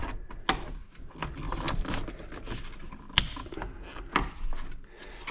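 Stiff plastic creaks, cracks and snaps in short irregular bursts as fan relays are pried off the fan shroud of a 2021 Ford Bronco, close by with scraping handling noise.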